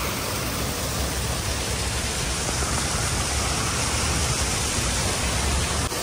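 Artificial water pouring steadily from an outdoor rooftop swimming pool at a new airport terminal in Bengaluru, a constant broadband rushing hiss with no breaks, fairly loud and close throughout.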